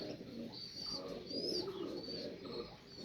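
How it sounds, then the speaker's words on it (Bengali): Female high-flyer pigeon cooing in low, soft, continuous murmuring tones, fairly quiet, with faint background chirps and no clear speech. "এটা হচ্ছে মাদি কবুতর"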